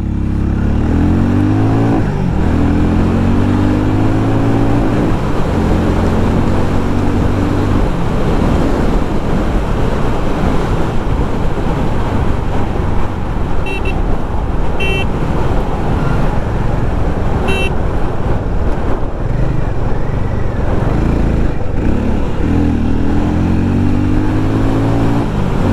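A Hero Mavrick 440 motorcycle in first gear revs and accelerates, its engine note climbing steadily in pitch at the start and again near the end, over a constant rush of wind noise, with no talk.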